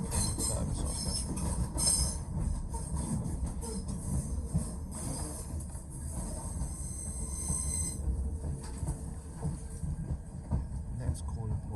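A train runs out of London Cannon Street towards Rochester, with a steady rumbling roll, clattering wheels and high squeals, heard from inside the carriage with faint talk in the background.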